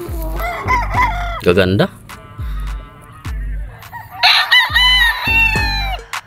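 Game fowl roosters at JRD Game Farm in Angat, Bulacan, crow loudly and repeatedly at close range amid clucking and sharp thumps, while someone briefly speaks.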